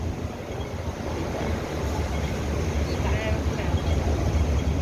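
Steady, roaring wind blowing across the microphone, a constant broadband rush with gusty buffeting throughout.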